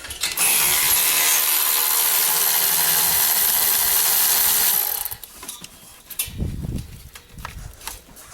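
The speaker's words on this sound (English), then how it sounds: "People ask me which ratchet I'm using. It's a Milwaukee 12 volt." Milwaukee 12-volt cordless ratchet loosening turbo clamps on a Ford F250 6.0 Powerstroke, a loud whirring motor run for about five seconds, then stopping, followed by quieter handling and clinking.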